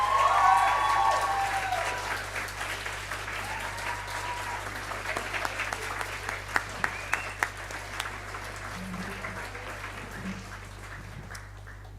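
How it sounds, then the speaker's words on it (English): Sustained audience applause at an academic awards ceremony, steady dense clapping that gradually thins and fades toward the end, heard alone without voices. "could we please give Stuart a round of applause?"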